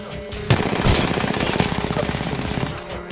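Gunfire from an RE-45 auto pistol in Apex Legends plays as a rapid, loud, close stream of shots that runs almost without a break for a few seconds.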